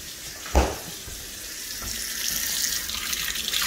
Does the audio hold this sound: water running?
yes